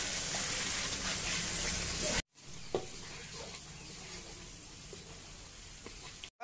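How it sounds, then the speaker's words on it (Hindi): Masala sizzles in a pan after fish has been fried, a steady hiss of frying that starts loud and then drops to a quieter crackle, with a few soft stirring taps. "मछली पूरा फ्राई हो चुका है और फिलहाल मसाला भून रहा है।"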